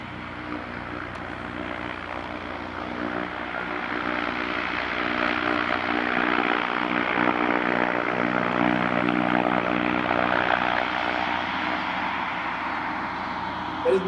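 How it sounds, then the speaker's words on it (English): A vertical takeoff and landing airship's engine runs steadily on open ground beside a highway, a continuous loud propeller drone that holds nearly constant and swells slightly over the stretch, with no voices. "It is a pure vertical takeoff and landing aircraft."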